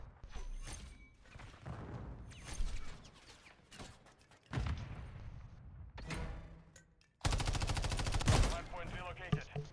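Shotgun fire in a first-person video game, several loud sharp blasts in irregular bursts with gaps between, ending in a denser stretch of rapid firing.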